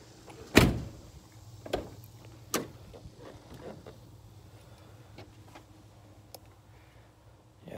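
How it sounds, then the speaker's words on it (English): Windows on a 1995 Ford E350 Econoline 15-passenger church van popping open: a sharp near click followed by several lighter latch clicks and taps spread over a quiet interior with a low steady hum. "These windows pop open."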